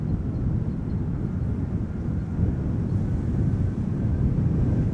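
KLM flight 598 arrives at Amsterdam Schiphol Airport, a loud, continuous low rumble of aircraft engines sustained throughout with no talking, close and even in level.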